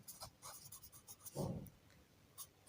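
A pen scratching words onto paper during a maths word-problem lesson, short quiet strokes in an uneven rhythm with one slightly longer scrape, close and soft, with no voice.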